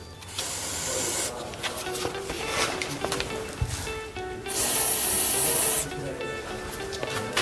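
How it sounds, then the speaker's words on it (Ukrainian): A lower shock absorber bolt on a car is scrubbed clean with rough rubbing and scraping. Then a sustained hissing burst of WD-40 spray lasts over a second, followed by more scrubbing. "Зачищаємо, пропшикуємо таким засобом, ведешкою, для того, щоб краще нам відкрутилися болти."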